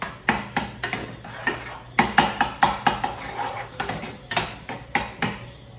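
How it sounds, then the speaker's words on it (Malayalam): Food being mashed and mixed in a pan, with repeated sharp clacks of a utensil against the pan in a quick uneven rhythm, close and clear, no voices. "ഇത് രണ്ടും കൂടി നമ്മൾ നല്ലപോലെ മിക്സ് ചെയ്ത് കുറുക്കിയെടുക്കണം."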